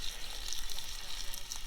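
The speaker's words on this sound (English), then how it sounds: "oh, we got the sizzle going. Listen to that sizzle." Steak sizzles in a frying pan over camp coals beside a lake, a steady, close hiss and crackle that carries on without a break.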